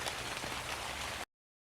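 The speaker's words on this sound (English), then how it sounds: "The rains began" Rain falling in an autumn forest, a steady hiss of drops that runs evenly for just over a second, then cuts off abruptly to silence.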